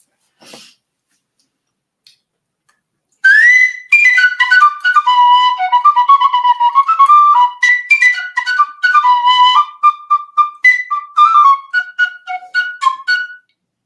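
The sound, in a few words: penny whistle playing a tune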